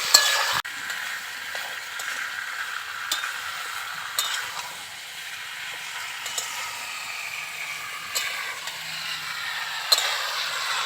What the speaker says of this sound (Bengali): মাংসটাকে দিয়ে এবার ভালো করে কষিয়ে নিতে হবে।